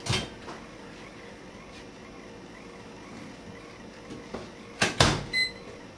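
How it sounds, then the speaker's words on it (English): A nearby microwave oven door clunks shut, followed later by a few sharp clicks and short electronic beeps over a faint steady hum as it runs. "put it into the microwave."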